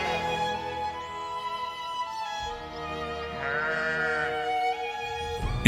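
Sierra Nevada bighorn sheep bleat in a snowy mountain setting during the breeding season, drawn-out wavering calls that are clear and fairly close, one call rising higher partway through.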